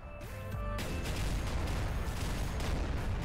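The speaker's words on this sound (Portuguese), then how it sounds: "É muito tiro." Continuous heavy gunfire and booming blasts from the run-and-gun boss-fight video game Mini Island Autumn, a dense, loud, unbroken barrage with a few tonal game sounds at the start.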